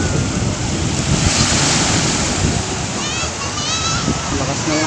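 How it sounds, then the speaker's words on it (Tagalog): Strong high-tide ocean waves crash and wash on a beach in a continuous loud roar, with heavy wind buffeting the microphone and a voice faintly underneath. "Lakas ng alon."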